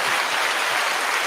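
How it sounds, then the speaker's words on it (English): A recorded clap track of applause: dense, continuous crowd clapping that holds steady without pause or variation. No talking is heard. "Oh my God, we have a clap track. It doesn't stop."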